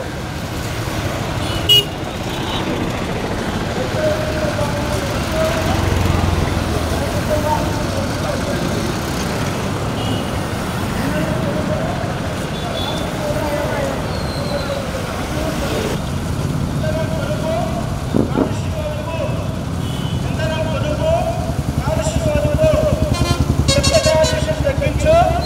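Road traffic of petrol and diesel vehicles fills the scene with a loud, steady engine roar, occasional horn toots and passing motorbikes, and voices are mixed in.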